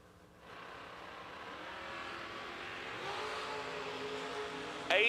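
Drag race at a strip between a Roadster Corvette and a Vega wagon, with engines roaring steadily from a distance as the cars launch and accelerate down the track, building slightly louder midway.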